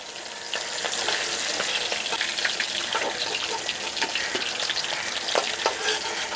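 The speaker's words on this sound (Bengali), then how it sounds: "সব মাছগুলো একইভাবে ভেজে নেব।" Hilsa fish pieces frying in hot oil, a loud, dense crackling sizzle that rises after a brief quieter opening and keeps going steadily with small popping spikes throughout.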